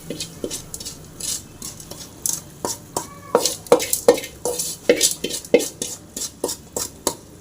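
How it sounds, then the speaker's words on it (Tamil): Tempering poured into a mushroom masala gravy and stirred, with a series of rhythmic scraping and clinking strokes of a spoon against the pot over a soft sizzle, close and fairly loud. "தாளிச்சு இதை இதில் ஊற்றிடலாம்"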